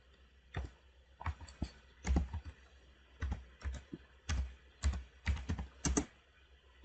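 Computer keyboard being typed on while entering a spreadsheet sheet name, with irregular bursts of close, crisp key clicks and short pauses between them.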